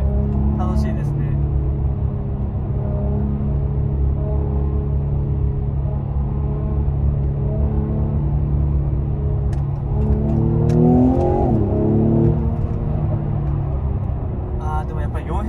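A Mercedes-AMG E43 4MATIC station wagon's engine drones steadily, rising in a brief rev midway, with a few faint, sharp pops scattered through it.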